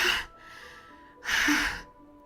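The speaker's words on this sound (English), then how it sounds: "It sounds like breathing. A sharp intake, like someone is sucking the air through their teeth." Two sharp breaths sucked in through the teeth, each a hissing airy burst about a quarter second long, close and clear with a quieter breathy stretch between them, in the visual novel game Doki Doki Literature Club.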